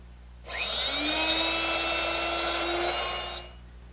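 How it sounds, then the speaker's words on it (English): A router with a jig runs up to a high, steady whine while cutting a deeper, narrower mortise for a butler's table, holding for about three seconds before spinning down, close and alone. "modified the jig by adding some thicker sides for a narrower mortise and lowered my router to make it deeper."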